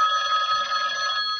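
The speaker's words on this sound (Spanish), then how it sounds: "Uy, mi teléfono está sonando, un momento." A mobile phone rings with a bright electronic tone that sounds continuously throughout, clear and close in an otherwise quiet room.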